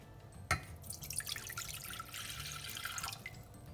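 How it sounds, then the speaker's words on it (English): A cup of measured water pours into a cooking pot for semolina fufu, a brief splash at the start followed by a steady close trickle and dribble that runs for a few seconds before tapering off. "For me, a cup of water is enough, so I'll just put that in my pot."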